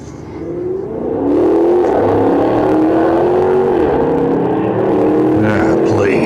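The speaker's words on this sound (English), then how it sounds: "Some idiot in his hot rod racing up and down Mission" A hot rod car revs and accelerates on a street, its engine note climbing steadily into a loud, sustained roar that stays up close throughout.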